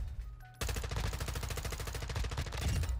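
Rapid automatic gunfire from a Call of Duty MW2 gun loaded with attachments and 60-round magazines, a dense, loud stream of shots starting abruptly and continuing for a few seconds.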